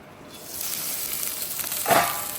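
Dosa batter sizzles on a hot pan with a steady, close hiss that swells briefly near the end.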